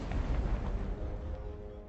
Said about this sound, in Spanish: El 88 de repente abre fuego.